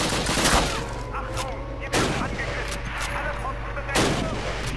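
Loud rifle shots ring out in the World War II shooter game Call of Duty, three sharp blasts spaced about two seconds apart over a rumbling battlefield din with distant gunfire.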